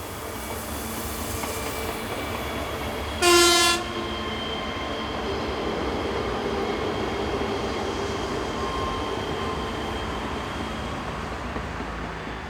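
A Traxx Series electric locomotive hauling a loaded steel train rumbles steadily through a mountain station at dusk, with one loud horn blast partway through over the continuous heavy rolling noise.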